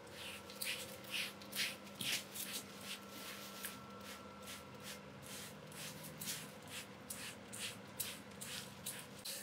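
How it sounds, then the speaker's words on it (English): Rapid bursts of spraying hiss from a spray bottle applying paint stripper to a car, pumped in a steady rhythm over faint background noise. "even though I'm spraying what appears to be a lot of product"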